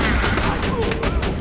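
Pistol gunfire in the Borderlands 2 shooter game: loud, dense bursts of rapid shots crackle continuously, layered with game effects.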